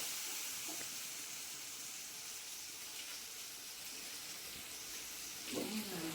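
Boiled vegetables go into a pot on a low gas flame, giving a soft, steady sizzle and hiss with a brief louder clatter near the end.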